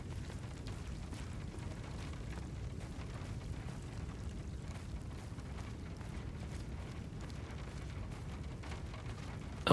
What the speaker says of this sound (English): Oh, nice, the rain on the car roof